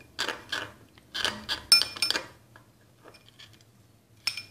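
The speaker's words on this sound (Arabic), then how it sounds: "سأضيف مقدار ملعقة صغيرة من الخل وأخلط" A spoon mixes a small spoonful of vinegar into a homemade powder, giving a few close, light scraping and clinking bursts in short clusters, then quieter scrapes with pauses between.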